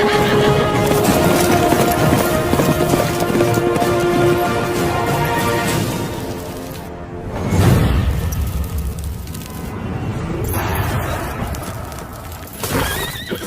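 A horse neighs loudly in the Hindi-dubbed 2022 action film Acharya, under a dense layer of hooves, music and dramatic effects, with a swell of rumbling impact midway.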